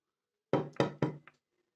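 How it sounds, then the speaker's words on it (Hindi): Three firm knocks on a closed door in quick succession, close and clear, followed by a faint fourth tap, with silence before and after. "अरे यार दरवाज़ा बंद है, खटखटाता हूँ।"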